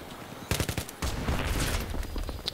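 Gunfire in Battlefield 3 during a Rush match on the Riverside map: a short silence, then bursts of rapid automatic shots cracking close and loud, turning into a steady barrage.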